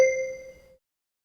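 A single bright bell ding, as used in a French language lesson, rings out clearly on its own and fades away within about a second.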